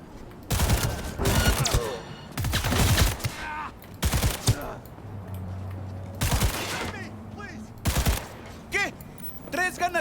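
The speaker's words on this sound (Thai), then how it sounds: "คือเป็นปืนพกที่จะนำวิถีกระสุนสู่เป้าหมายนะครับ" Smart pistol with guided bullets firing in the video game Cyberpunk 2077, several loud rapid bursts of shots in clustered volleys with short gaps between, a voice talking in the pauses.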